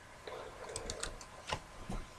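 Someone types on a computer keyboard with quick, uneven clicks and taps, close and fairly quiet, with a few slightly heavier keystrokes mixed in and no talking.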